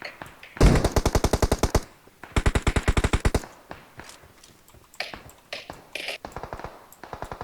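Automatic gunfire bursts in a PUBG Mobile firefight, with two long rapid-fire strings up close, followed by scattered shorter shots and clicks further off.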